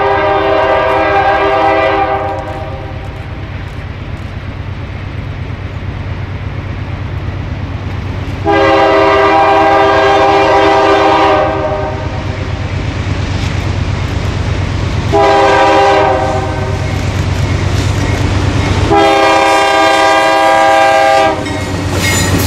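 A southbound freight train led by two GE Dash 8 locomotives passes loud and close, rumbling steadily while its horn sounds in four long blasts.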